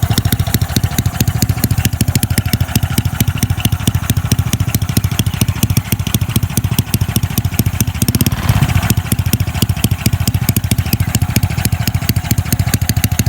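A motorcycle engine with a modified ignition chip idles roughly up close, loud and steady with a lumpy, uneven pulsing beat throughout.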